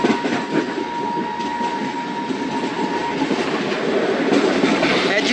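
A Pakistan Railways H30 locomotive rumbles steadily at a station, a sustained diesel drone with a faint tonal whine, moderately distant, with no talk.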